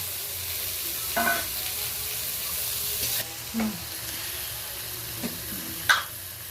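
Chopped green chillies and onion sizzling in a pan for stuffed pointed gourd dolma, a constant frying hiss broken by a few sharp spatula stirs and scrapes.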